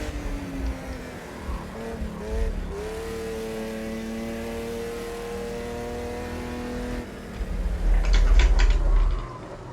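A 1979 Chevrolet Opala race car engine in the racing game Automobilista at the Nordschleife, revving steadily through the gears with a rising tonal whine, shifting down, then a louder rough burst near the end.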